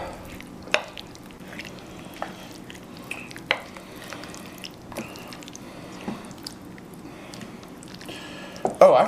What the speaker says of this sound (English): get your paddle out or your wooden spoon or whatever. We're just going to kind of blend this all together